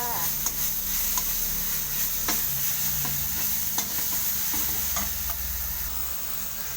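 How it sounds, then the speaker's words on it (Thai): Garlic and chili stir-frying in pork lard, a steady close sizzle with light scraping and tapping from a utensil stirring the pan, a pale tick sounding here and there. "นำกระเทียมกับพริกค่ะมาผัดกับน้ำมันหมูนะคะ"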